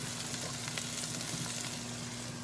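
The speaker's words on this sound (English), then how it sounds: "into this I'm going to add onions, garlic, and parsnip" Onions, garlic and parsnip frying in a pan give a steady, dense sizzle with a faint low hum underneath, continuous and fairly quiet throughout.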